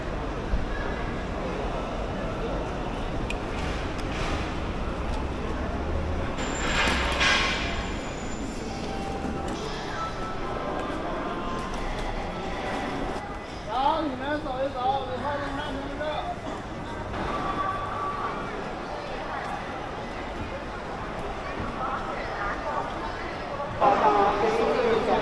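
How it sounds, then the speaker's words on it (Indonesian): Crowded hall of Beijing South Railway Station, with a dense hubbub of many voices, footsteps and announcements, and speech over the top throughout. "Rame banget guys hari ini, padat banget ya di stasiunnya ini."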